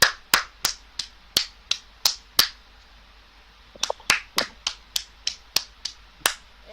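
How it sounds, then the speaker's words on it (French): An audience at an evening celebration with fireworks claps in sharp, loud, rhythmic strokes, in two separate runs with a short pause between them. "Un max d'applaudissements."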